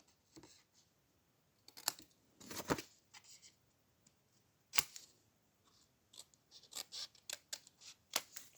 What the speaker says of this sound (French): On prend son ciseau et on vient donc biseauter tout ça.